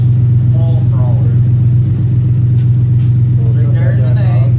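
Deep, steady idle rumble of a 2011-2019 Ford F150 5-liter V8 through a welded Thrush muffler dual exhaust, loud and close, with people talking over it.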